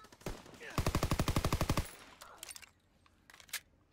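Automatic gunfire from Call of Duty: WW2 multiplayer, a rapid burst of about a dozen evenly spaced shots lasting around a second, followed by a few scattered single shots and faint distant pops.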